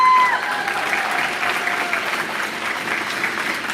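Sustained audience applause at a school concert, steady dense clapping throughout with a brief high tone at the start, loud and continuous.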